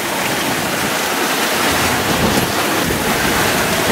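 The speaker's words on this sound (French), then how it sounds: "On peut voir la petite mer qui s'est formée avec les vents de 20-30 nœuds qu'on a depuis le début de l'après-midi." Wind from 20–30 knot breezes and choppy sea waves on a sailboat crossing the Atlantic, a dense continuous rush of gusting wind and splashing water, loud and close with no voices.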